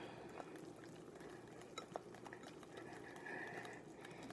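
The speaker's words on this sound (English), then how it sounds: "just keep whisking and whisking till you get all of the powder into your batter" A whisk beats batter in a bowl to work in the powder, making a steady, close, rapid scraping and swishing with small clinks, continuous throughout.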